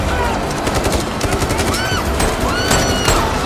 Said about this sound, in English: This entire scene, thousands of rounds are fired collectively